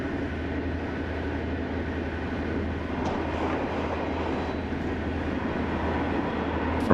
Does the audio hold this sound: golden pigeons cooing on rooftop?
no